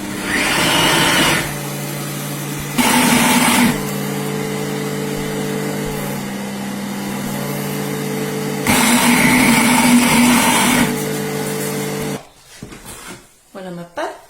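A food processor kneads dough in a steady, loud motor whir lasting several seconds, with bursts of higher-pitched strain, then cuts off into quieter handling noises at the end.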